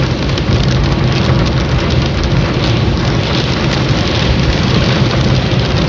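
Steady, dense rain roars without a break in Murree, a loud broadband wash with low rumble beneath, like a downpour drumming on a car, heard from inside the car.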